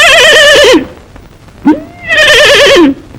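A man imitates a horse's neigh with his voice, two loud, wavering whinny calls separated by a short pause and a brief vocal break.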